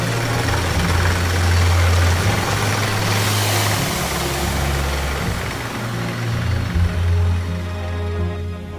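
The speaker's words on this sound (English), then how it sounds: "The trucks were so loud and made noises I had never heard before." Loud trucks at a water well drilling site, a heavy low engine rumble with pulsing, knocking undertones and a surge of broadband noise partway through, continuous and close.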